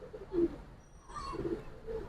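Giribaz pigeons at a pigeon sale cooing in a few soft, close, throaty bursts, with a faint high tone in the background.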